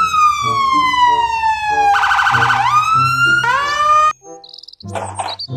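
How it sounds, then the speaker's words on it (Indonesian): A toy police car siren wails in loud, rising and falling electronic sweeps close by, then cuts off abruptly and gives way to short bursts of other toy electronic noises. "Mobil polisi."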